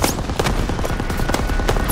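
Machine gun fire during the D-Day landing in Call of Duty WW2, a loud, rapid stream of rattling shots over constant battle rumble.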